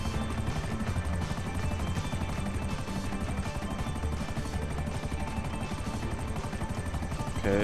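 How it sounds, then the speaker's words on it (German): Steady, dense rotor thrum of a helicopter in GTA Online, loud and continuous, with faint gunfire-like bursts mixed in. "Helikopter."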